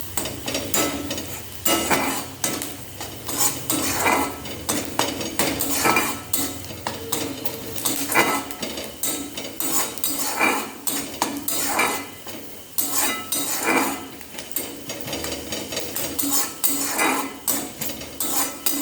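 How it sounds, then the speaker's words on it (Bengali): A spoon scrapes and clanks steadily against a metal pan while a spoonful of gram flour (besan) is stirred and mixed in, making busy rhythmic clattering throughout with no voices. "এটাকে এবার ভালো করে এর সাথে মিশিয়ে নেব"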